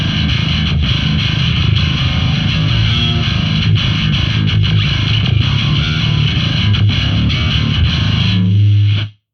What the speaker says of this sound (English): That would be a very extreme djent sound.